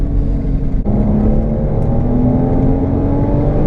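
A Porsche Boxster S 986 engine pulls steadily in third gear, its loud, smooth drone rising gradually in pitch with a brief dip partway through.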